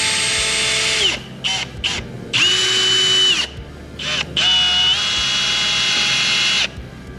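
A power tool drives extra studs into off-road side-by-side tires in bursts of high, whining drilling, with several short pauses between loud runs, close by.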